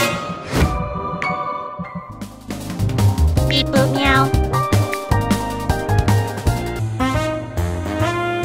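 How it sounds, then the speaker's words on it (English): Cartoonish cat meows ring out loud and close over busy, bright game music with chimes in the fighting game Skullgirls Mobile, the mewing repeating across the stretch with no talk. "Meow."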